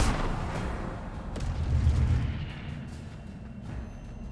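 Levioso spell cast in the video game Hogwarts Legacy: a booming, rumbling magical effect that swells to a peak midway, then fades into a sustained low roar.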